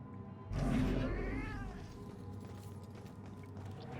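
A cat in Murdered: Soul Suspect gives one clear, drawn-out meow with a rising and falling pitch, close and distinct, then the room goes quiet.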